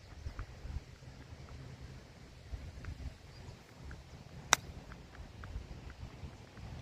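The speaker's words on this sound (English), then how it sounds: "You see how fast that wind's blowing?" Strong wind blowing across an open golf course, a low rough rumble buffeting the microphone steadily, with one sharp click partway through.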